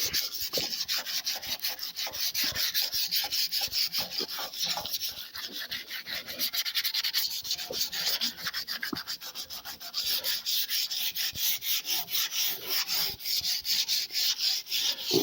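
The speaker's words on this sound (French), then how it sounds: "C'est l'avancée du ponçage." Steady rubbing and scraping from hand-sanding the tailgate of a black Peugeot 306 in preparation for paint, a continuous close abrasive hiss with rhythmic back-and-forth strokes throughout, no voices.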